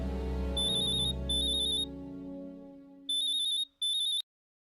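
An electronic telephone ring trills in two short bursts, pauses, then two more bursts, loud and close over a low background sound that fades out.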